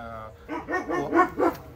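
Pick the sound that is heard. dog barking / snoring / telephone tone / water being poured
dog barking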